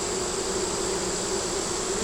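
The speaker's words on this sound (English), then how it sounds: "See all these bees back here?" Dense, steady buzzing of many honeybees around a backyard hive tending a white queen, a continuous close drone with no voices.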